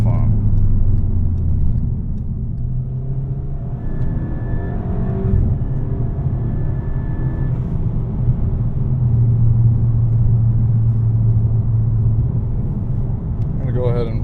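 A VW Mk6 Golf GTI with a DSG gearbox drives along, its engine a steady low rumble with road noise inside the cabin, a brief rising whine partway through, and a voice talking over it.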